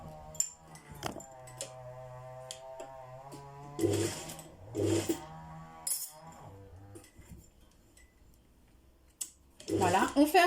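A sewing machine stitching the first seam of a button placket on fabric, short bursts of rapid mechanical stitching separated by pauses, with clicks and handling noises and a voice talking in between.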